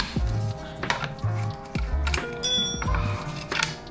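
A socket wrench working a bolt loose on a Honda ADV160 scooter, rapid ratcheting clicks in repeated strokes with short pauses between pulls, close by and clear, with no talking.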